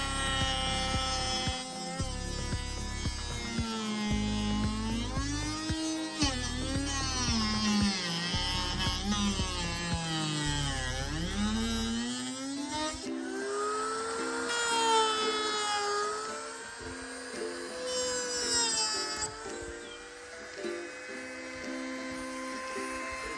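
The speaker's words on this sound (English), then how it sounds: "So I need to grind the opening down just a little bit." A power grinder cuts into the door opening of a 2019 Wraith Super C motorhome to fit an RV lock, whining steadily with shifting pitch as it bites and eases, loud and continuous up close with no talking.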